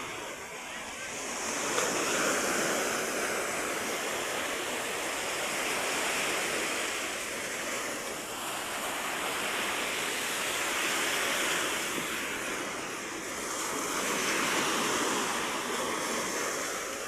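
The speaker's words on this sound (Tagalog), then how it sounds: "abot yung alon hanggang dito. Sa seawall na to" Steady roar of ocean surf rising and falling in slow swells, waves breaking against a hard wall, continuous and fairly loud.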